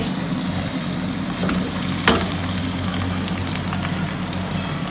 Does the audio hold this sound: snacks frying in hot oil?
yes